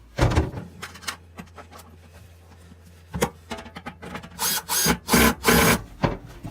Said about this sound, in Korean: 구멍 위치를 맞추고 드릴로 한번 조여줄게요.